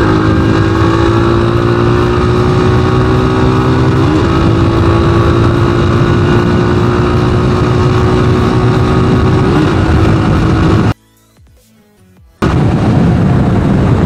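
Loud, steady drone of a Rusi Classic 250 motorcycle engine held at full throttle, a continuous buzzing roar with a slight pitch wobble, briefly cutting out near the end before roaring back, no voices.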